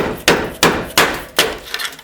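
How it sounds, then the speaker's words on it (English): Metal drip rail on a 1968 Mustang struck with a grinder, four sharp evenly spaced knocks followed by a fainter fifth, close and loud with a brief ring after each hit. "You may have to hit it a few times with the grinder."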